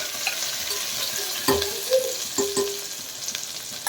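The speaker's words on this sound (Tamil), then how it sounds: "இதை நல்லா வதக்கிக்கிறோம்." Chopped onion sautés in a hot pan for a country chicken soup, a close steady sizzle broken by occasional scraping stirs of a spoon, with no talking.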